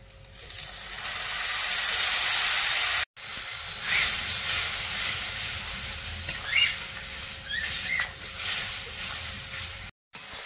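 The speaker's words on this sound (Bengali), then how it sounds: "এবারে দিয়ে দিচ্ছি জল" Water poured onto turmeric and chili powder frying in oil for a chicken and potato curry, bursting into a loud steamy hiss that swells for a few seconds, then continues as steady sizzling with occasional spatters, close by and without speech.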